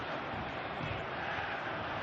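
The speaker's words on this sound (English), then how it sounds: "Crowd calling for him to shoot." Stadium crowd in the PES 2019 football video game, a dense and steady roar of many voices rising slightly, with no commentary over it.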